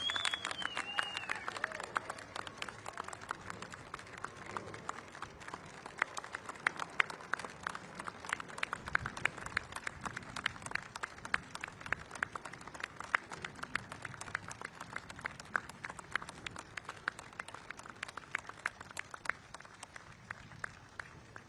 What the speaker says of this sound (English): One more round of applause for all our World War II veterans.